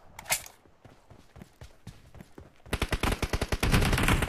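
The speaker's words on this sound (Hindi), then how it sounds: "कवर फायर दे रहा है उसको" Video game gunfire during a 2v2 friendly match, starting as scattered single shots and then breaking into a loud rapid automatic burst that runs to the end.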